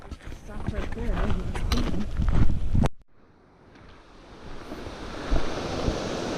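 River rapids in Eldorado Canyon rush in a steady roar, heard from nearby after wind-buffeted sounds and a brief drop, continuing strongly to the end.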